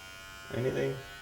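Electric hair clippers buzz briefly during a self-haircut, a short close hum lasting about half a second within quiet room tone.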